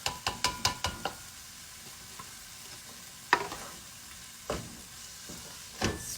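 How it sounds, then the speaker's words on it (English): Peas are stirred into a sizzling curry pan with potatoes, opening with a quick run of sharp spoon clacks against the pan, then a low steady sizzle broken by occasional scrapes and knocks, with no voices. "Stir them in."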